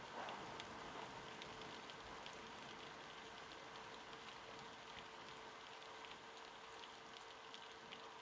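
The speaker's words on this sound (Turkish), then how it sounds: "ne yağmur yağıyor oğlum" Rain falls steadily in the bus-driving game Bus Simulator Ultimate, a dense, even hiss of drops that continues unbroken and alone throughout.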